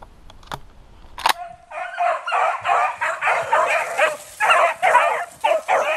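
Beagle hunting dogs bay and bark in a steady run of repeated yelps after a rabbit hunt, several loud close calls following a couple of sharp knocks at the start.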